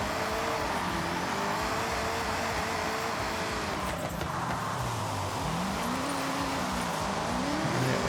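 A car in a racing game, set up as a wheelspin drift build, revs hard with sliding engine pitch and tire noise as it spins out, loud and continuous with no talking.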